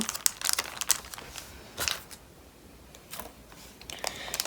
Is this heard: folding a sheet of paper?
yes